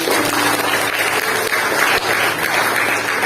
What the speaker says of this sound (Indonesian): Kasih tepuk tangan yang paling meriah di Tuhan.